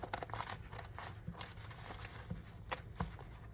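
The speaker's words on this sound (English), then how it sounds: "I'm using my lace scissors" Quiet, crisp snips of lace scissors cutting through lace, several short cuts in an irregular rhythm, close by with no talking.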